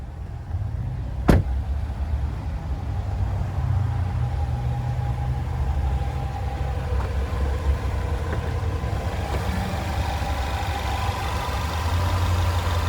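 A 2021 Jeep Cherokee Latitude Lux with a 2.0-liter turbocharged four-cylinder idles steadily with a low, even hum close by, broken once by a short sharp click near the start.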